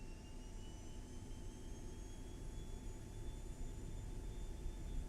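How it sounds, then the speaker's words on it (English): A steady, continuous jet turbine roar from a Vision Jet in X-Plane 12, with a constant high whine on top, holding at an even level throughout with no talking. "Those turbines sound cool."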